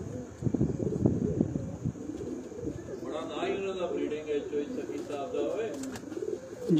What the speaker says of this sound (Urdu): یہ دوستو چودھری صحیح بھٹی والے کبوتر ہیں ماشاء اللہ جی